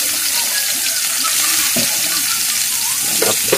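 Garlic and onion sauté in a hot pan for pinakbet, giving off a steady, close sizzle with a few soft clinks and scrapes from stirring.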